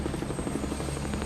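Helicopter rotor thumping steadily and close during a hospital evacuation after Hurricane Katrina, a continuous loud engine drone with a regular beat, no voices.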